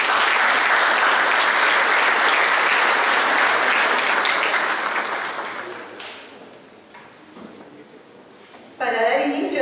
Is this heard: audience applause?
yes